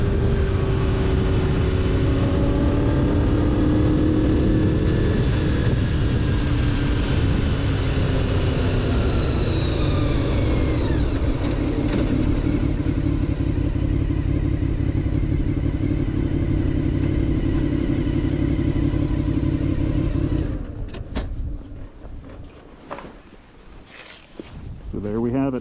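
A 1993 Honda VFR750F motorcycle rides steadily, its loud engine drone and whine shifting with speed, then dropping and fading near the end under wind buffeting.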